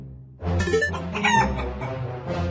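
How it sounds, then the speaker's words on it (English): A cartoon chicken clucks and crows in short bursts from inside a haystack, fairly close, with no talking over it. "that haystack is moving and clucking"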